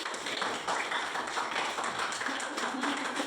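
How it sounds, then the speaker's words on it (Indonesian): Students in a classroom clap for a classmate during a chemistry lesson, a fairly quiet, diffuse patter of hands mixed with room murmur and faint voices in the background. "tepuk tangan buat si Kira."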